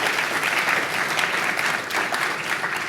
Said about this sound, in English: Maybe we could give a round of applause for this great place, the Archives.